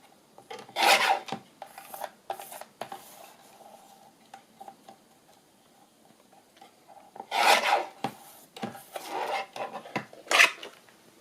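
Scissors trim a collaged paper tag for a wedding journal, giving short rasping snips in two bursts with quiet handling between them, close and fairly soft.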